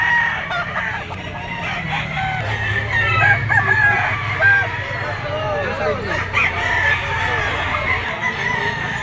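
Young roosters (stags), some white-legged, crow repeatedly amid clucking hens and other fowl at a busy pet market, with steady crowd murmur and occasional voices in the background.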